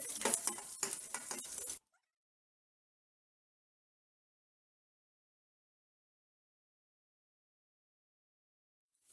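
Roasted peanuts tumble into a pan and get stirred with a spoon for pepper rice, giving a short burst of scraping and light sizzling that stops abruptly into silence.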